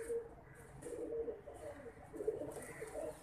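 Large pigeons coo in soft, repeated low throaty calls close by, with faint background noise and no one talking.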